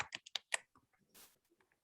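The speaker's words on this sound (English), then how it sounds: "I'm just typing in" A short burst of computer keyboard typing, several quick close keystrokes followed by fainter scattered clicks, with no talking.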